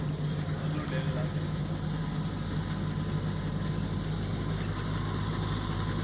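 A tractor engine idles in Kundian with a steady, low rumble that runs unbroken for about six seconds, close and constant.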